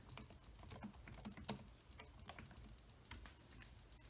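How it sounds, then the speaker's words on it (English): Someone types on a small, flat Virfour PC390A Bluetooth computer keyboard, producing quiet, rapid, close-up key clicks in an irregular rhythm with soft thuds between them, and no voices. "I'm gonna do a typing example just so you can hear it"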